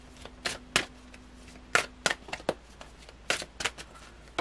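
Tarot cards are shuffled by hand for a reading, a close run of quick riffling bursts and soft slaps in an irregular rhythm, with no talking.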